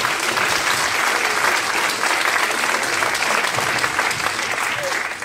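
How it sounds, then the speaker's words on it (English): A high school senior awards ceremony audience claps steadily for a student, dense even applause holding for about five seconds with faint voices mixed in. "go ahead and give them a round of applause"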